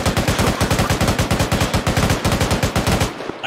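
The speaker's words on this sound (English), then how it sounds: "They're going to return fire." Rapid automatic gunfire in a video game rattles on in a loud, steady stream of dense shots for about three seconds, then cuts off abruptly.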